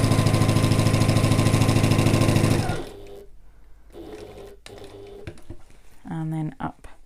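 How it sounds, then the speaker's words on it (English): Sewing machine stitching pocket pieces onto an evening bag lining, a loud, fast, even whir for about three seconds before it stops, followed by quieter handling and a voice talking. "I'm only sewing on the pocket pieces."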